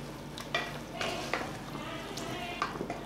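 Ingredients for chicken biryani sauté in oil inside a pressure cooker, a faint frying hiss under a few quick spatula scrapes and stirs.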